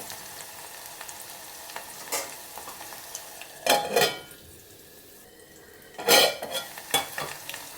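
Onions and green chilies fry in oil for tempering, a low steady sizzle under loud intermittent bursts of a spatula scraping and knocking the pan.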